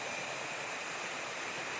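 Steady, broadband rushing of the Secret Falls waterfall in Doña Remedios Trinidad, Bulacan, a constant soft wash of falling water with no voices.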